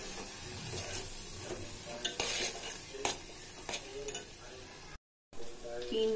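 Misal ingredients stirred in a pan over low heat, a soft continuous sizzle beneath scattered spoon scrapes and clinks, with one brief dropout near the end.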